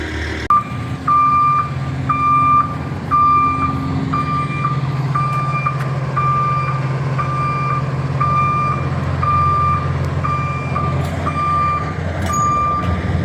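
A delivery truck backs up at a driveway paving site, its backup alarm beeping in a steady, evenly spaced series over the low rumble of the idling diesel engine.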